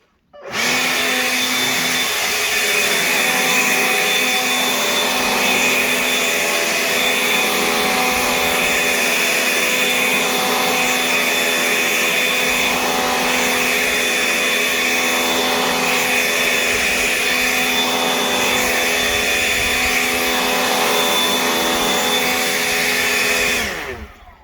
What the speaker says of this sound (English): Everybody's favorite thing to listen to, a leaf blower. This one's electric too, still loud.